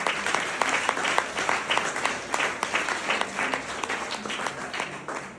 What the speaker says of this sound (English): We are going to give another big thunderous James Hill round of applause for all our prize winners for today